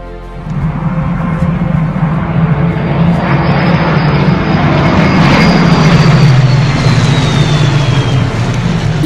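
A propeller aircraft flies overhead, a loud continuous engine drone that swells and shifts in pitch as it passes close by, alone without any talking.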